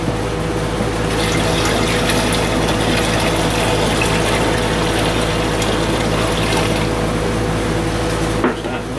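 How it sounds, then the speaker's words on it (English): Water glugs and splashes steadily as it is poured from a jug into the new radiator of a 1944 Ford 2N tractor, a continuous close gush that ends abruptly near the finish. "We'll dump the rest of this water in."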